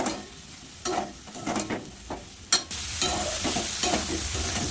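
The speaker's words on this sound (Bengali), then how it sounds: "ভালো করে সয়াবিন আর আলু দিয়ে কষিয়ে নেব" Soybean chunks and potato fry with spices in a pan, the spoon scraping and knocking in irregular strokes over a steady low sizzle, close and clear with no talking.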